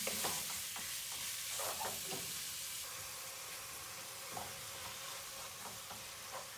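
Ground meat for zucchini lasagna sizzles and fries steadily in a hot pan, with a continuous hiss broken by occasional scraping stirs, close and without talk.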